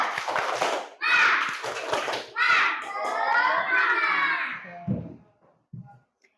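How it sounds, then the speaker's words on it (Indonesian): Schoolchildren in a classroom perform the 'tepuk semangat' clapping chant, young voices shouting in unison with rhythmic hand claps, then a few final claps trail off into quiet. "Sekarang tepuk semangat."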